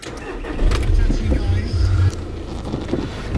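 A VW Tiguan with a 6-speed manual gearbox cranks and its engine catches, settling into a low idle close to the microphone, with wind buffeting and someone talking over it.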